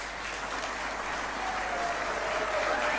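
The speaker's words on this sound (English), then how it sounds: "Let's clap for that." Steady, moderately quiet applause from an audience at a Kenyan government event honouring Dr. Lilian Nyawanda, a continuous wash of many hands heard from a distance, even throughout with no distinct claps standing out.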